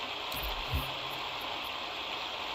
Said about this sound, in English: you always have like this sort of calming water sound and everything